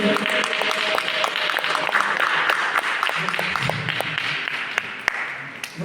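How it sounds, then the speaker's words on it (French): An audience at an evening diaspora cultural event claps steadily and densely throughout, a sustained crowd applause with faint voices beneath it. "Est-ce que vous pouvez applaudir pour vous?"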